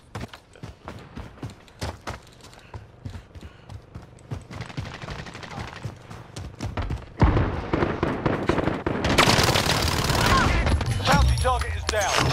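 Video game gunfire, scattered sharp shots building into dense volleys and bursts that grow louder and more sustained toward the end, with occasional voices in the mix.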